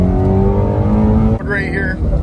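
A Ford Mustang GT350 engine runs loud and close with a steady, rich drone that dips briefly and picks back up as it climbs toward high revs, with someone talking over it.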